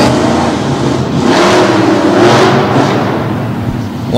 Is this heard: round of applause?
no